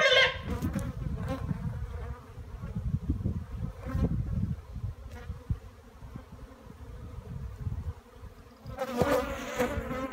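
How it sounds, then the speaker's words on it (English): Bee buzzing right around a phone, a close, fluctuating insect drone that wavers in loudness for about ten seconds, with a brief rustle near the end. "There's a bee on my phone."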